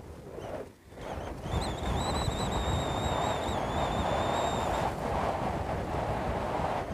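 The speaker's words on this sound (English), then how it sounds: "We have some wind here on the tops, that's why maybe some noise." Strong wind buffets the microphone on a hilltop beside an erupting volcano with lava flows, a loud continuous roaring rumble that dips briefly near the start; a faint high whistling tone rises and wavers for a few seconds.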